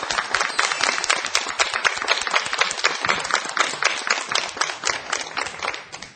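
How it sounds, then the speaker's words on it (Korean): An audience at a Korean housekeeping lecture show claps steadily in dense, even applause that fills the whole stretch and fades slightly at the end, with no talking over it. "네, 박수로 청해 듣겠습니다."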